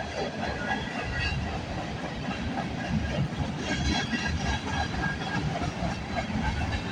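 A long CN/CP freight train rolls past in Milton, Ontario, a loud, steady rumble with rhythmic wheel clatter and hiss, close by and continuous without letup.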